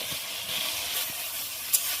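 Ridge gourd pieces go into a pan of ground spice paste already frying in oil, setting off a steady, close, even sizzle that holds for a couple of seconds with no voice over it.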